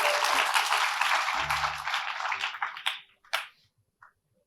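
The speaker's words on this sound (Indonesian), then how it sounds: "Berikan tepuk tangannya paling meriah." Applause at a church service swells loudly for a few seconds, then thins into scattered claps and fades to near silence with a couple of last isolated claps.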